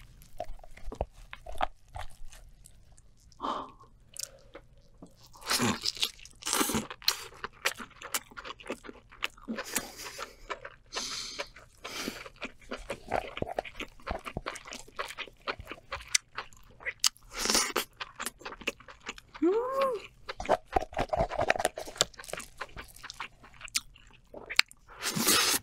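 Crunchy eating of a giant king lobster: irregular close crackles, bites and chewing crunches of shell and meat scattered throughout, with soft mouth sounds in between and no speech.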